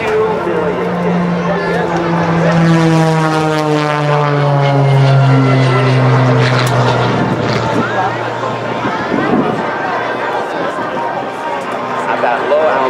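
Team Oracle's aerobatic plane, flown by Sean D. Tucker at the Wings Over Houston air show, roars past at low altitude with a steady propeller drone and a sweeping pitch change, under an announcer's continuous commentary.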